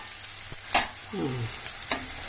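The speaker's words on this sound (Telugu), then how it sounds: "ఆయిలే కదా, ఆయిల్లో మంచిగా వేగుతాయి, ఫాస్ట్ అవుతాయి" Bitter gourd pieces frying in oil, a steady close sizzle broken by a few knocks of a spoon against the pan and a brief tonal scrape.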